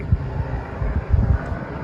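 A large wind turbine at a wind-farm viewpoint in Sholayur, its deep low rumble swelling and pulsing in slow gusts, steady and fairly loud with wind noise and no talk.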